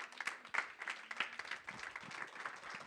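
Congregation applauding the Lord during a French-language church service, a steady wash of many hands clapping across the whole stretch, moderately loud and fairly close.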